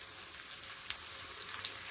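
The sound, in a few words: spring onion leaves frying in tempering oil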